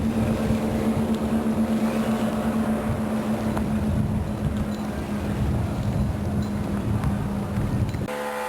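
Steady engine drone of a motorboat passing in Belize, with a constant hum, fairly loud and close, mixed with wind rumble on the microphone.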